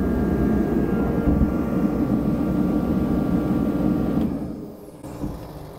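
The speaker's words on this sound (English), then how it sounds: "I think there's just enough diesel fuel in here to run it for a second" A Dewalt DXH215HD 135,000 BTU portable diesel heater runs with a loud, steady roaring rumble, then cuts off and fades near the end, leaving a quieter tail.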